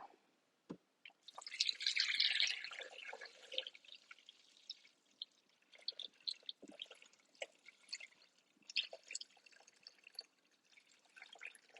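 Water splashes and trickles steadily into a Thermomix TM6 bowl, a fuller pour early on that thins into drips and dribbles; close by, with no talking.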